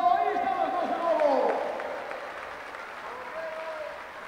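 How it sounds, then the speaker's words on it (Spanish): Audience applause at a drone race exhibition during a drone congress, heard as a burst of clapping and cheering under an excited announcer's voice, fading somewhat toward the end. "¡Ese aplauso!"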